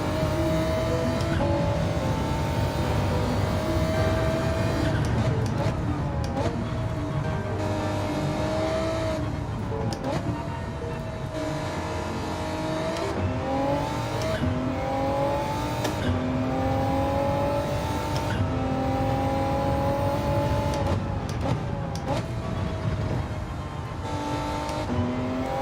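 Race car engine in Gran Turismo 7 on PS4 Pro revs steadily and loudly, its pitch climbing and dropping sharply with each gear shift across a long continuous run, with occasional tire squeal and no talking.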